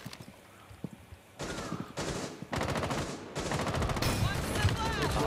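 Automatic and single-shot gunfire in a first-person shooter on the Outback map, several dense bursts of rapid shots separated by short pauses, loud and close, with brief game chatter in between.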